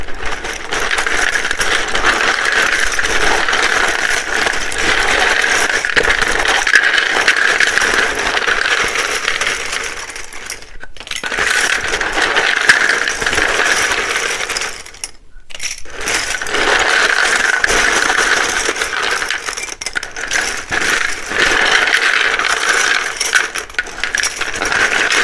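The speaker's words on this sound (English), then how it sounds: "It can be very loud when I shuffle these." A deck of tarot cards shuffled loudly and continuously for about twenty-five seconds, a dense rattling, riffling clatter with two brief pauses, close and alone.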